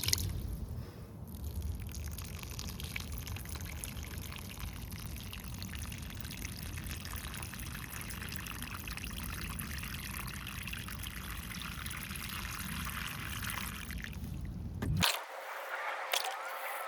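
Water is poured steadily into potted plants in a home garden, a continuous close trickle and splash lasting most of the stretch before ending abruptly.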